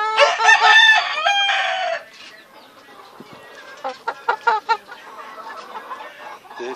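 Large rooster crows loudly and close for about two seconds, a long wavering cock-a-doodle-doo, followed by softer clucks and scattered short calls from other fowl nearby.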